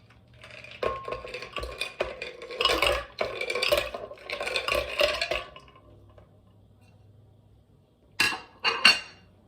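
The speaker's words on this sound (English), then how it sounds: "The last ingredient we'll use for today's smoothie, or healthy alternative to a milkshake, is about 10 ice cubes." About ten ice cubes tumble into a blender for a smoothie, making a scattered series of hard clinks and rattles in bursts, fairly quiet, then a short pause before two more clatters.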